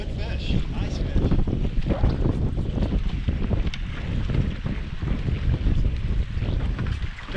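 Strong wind buffets the microphone in a constant low roar, with rushing gusts and water noise from out on a bass fishing boat on Lake Lanier in winter.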